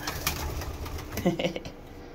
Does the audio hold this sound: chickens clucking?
no